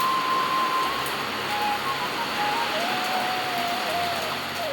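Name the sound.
heavy rain falling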